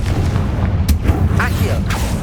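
A Confringo fire-blast spell bursts within the busy mix of a Hogwarts Legacy battle, with a couple of sharp booming hits over a constant low rumble of game effects and a voice-like layer.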